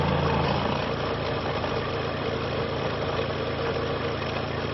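A car engine idles steadily with its oil filler cap removed, a continuous close, even rumble with no speech.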